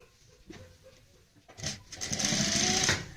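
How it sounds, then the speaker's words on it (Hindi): A sewing machine stitches a round collar onto a neckline. It starts with a few short bursts, then runs in a faster, louder continuous whir near the end, with no talking. "ऊपर की सिलाई से हमें यहाँ पे अटैच करते जाना है इस तरीके से।"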